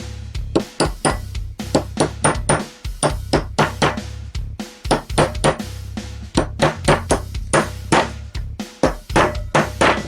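A bearing race being tapped into the differential housing of a Renault 4L, sounding as a fast, uneven series of sharp metallic hammer clinks and pings, loud and close, with short pauses between bursts.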